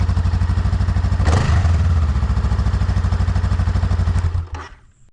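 A motorcycle engine with its stock exhaust idles with a steady, rapid thumping putter, loud and close, before the sound cuts off and fades out near the end.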